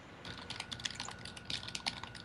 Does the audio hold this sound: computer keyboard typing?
yes